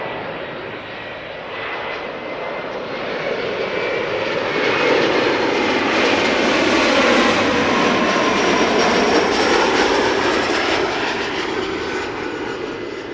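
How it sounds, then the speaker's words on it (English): A KLM Embraer 175 jet arrives at Amsterdam Schiphol, its engine roar building from moderate to a loud, broad peak midway and then easing slightly, continuous and unaccompanied by voices. "KLM flight 912 up next, Embraer 175 arriving from Aberdeen."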